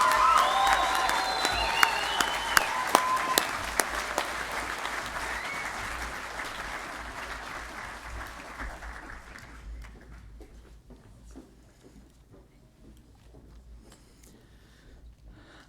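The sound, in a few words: audience applause for graduates at commencement ceremony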